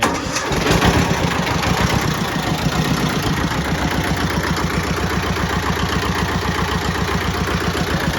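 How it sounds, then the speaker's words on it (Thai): The two-cylinder diesel of a Hinomoto E14D four-wheel-drive tractor chugs steadily at idle, its uneven low pulses loud and close, with no talking. "เสียงสองสูบมันจะ ไม่ไม่ไม่เสียงเรียบเหมือนสามสูบนะครับ"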